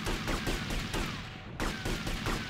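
Video-game gunfire in GTA Vice City Definitive Edition sounds as a handful of fairly quiet, sharp shots in quick succession over a dense background of in-game noise.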